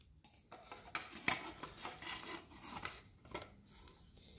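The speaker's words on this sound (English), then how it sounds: "I'm just gonna take some needle nose pliers, see if I can dig in there and grab it out." Needle nose pliers dig old fiberglass packing out of a KTM 50 SX exhaust silencer, giving faint, irregular scratching and rubbing with small clicks and scrapes, close up and with no talking.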